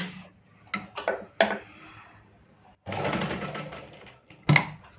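A domestic sewing machine stitches a blouse in short bursts, a few quick runs early and a longer steady run in the middle, with a sharp clunk near the end and brief speech between bursts.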